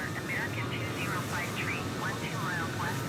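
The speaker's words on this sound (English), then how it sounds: "We have our Delta airplane taking off." Delta airliner taking off in Microsoft Flight Simulator 2020 at Phoenix Sky Harbor International Airport, a steady broadband engine roar that holds loud throughout, with a voice talking over it.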